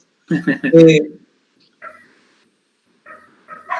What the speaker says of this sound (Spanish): ¿Hay un perro ladrando, puede ser? Sí, acá en la calle.